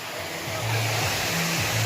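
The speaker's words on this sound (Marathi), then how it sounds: "वरतून पाणी धबधब्याचं येते" Steady roaring rush of a waterfall near Pune fills the clip, broad and continuous, with faint voices underneath.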